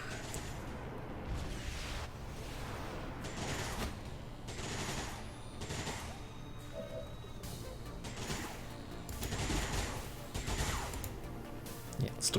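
Rapid gunfire bursts in the tactical strategy game XCOM 2: War of the Chosen, several volleys of shots spread across the scene at steady loudness over background game sound.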